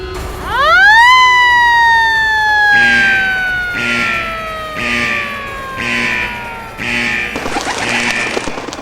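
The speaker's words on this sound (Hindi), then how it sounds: "लगता है जंगल का सायरन बज गया," An electronic emergency siren sounds loud and close, sweeping sharply upward at the start, then holding a slowly falling wail while a repeated pulsing tone rises and falls over it, ending in a burst of harsher noise.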